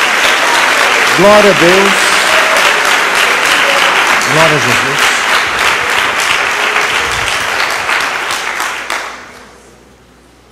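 A church congregation breaks into loud sustained applause during a sermon, many hands clapping at once while a voice calls out over it, the clapping fading away near the end.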